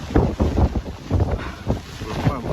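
Strong gusting wind batters an umbrella on a rainy street, producing loud, uneven buffeting and flapping bursts with heavy wind noise on the microphone and a voice now and then.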